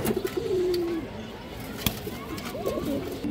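Fancy pigeons, a pair of high-flyer breeds, give soft repeated coos up close, a few short low calls with a faint clatter in the background.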